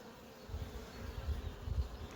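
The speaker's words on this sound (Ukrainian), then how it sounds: "Хороший рій і меда скільки вже наносили." Honeybee swarm buzzing around a hive with honey-filled frames in May, a faint, steady low drone with a few slightly louder swells.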